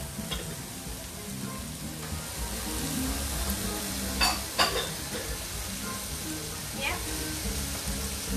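Prawns fry in a pan with a steady moderate sizzle, joined by a few clinks and scrapes of stirring while people talk in the background.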